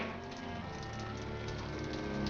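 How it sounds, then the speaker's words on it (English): Steady, dense storm rain pours down continuously, a thick wash of drops hitting surfaces close by with a low rumbling undertone. "I closed that window when the storm started."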